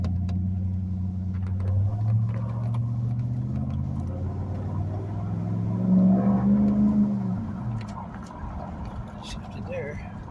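A Chevy 4L60E automatic transmission runs on a vehicle during a line pressure test: the engine drones and revs with rising, falling tones and a clear shift partway through, while someone talks over it.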